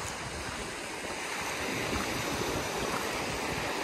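Shallow, slow-moving creek water makes a soft, continuous trickle and wash, faint and steady, with no voices over it.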